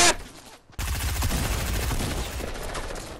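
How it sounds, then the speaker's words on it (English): Rapid gunfire in the video game Fortnite rattles in a brief burst, cuts out for a moment, then returns as a loud, sustained barrage of shots aimed at the player. "I'm getting shot at."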